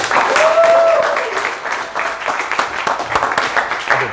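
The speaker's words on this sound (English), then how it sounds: "give a big round of applause to my very good friend, my honored guest, Saad" A conference audience applauds to welcome crypto guest Saed Ereiqat onto the stage, with loud, crowded clapping, a brief whistle near the start and faint voices mixed in as the applause fades slightly.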